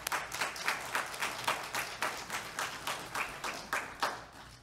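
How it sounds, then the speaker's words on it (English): A church congregation on Youth Sunday claps for newly baptized people. The claps are rhythmic and slightly uneven, from a modest group, and the applause is moderate and steady, with no talking. "give them a round of applause"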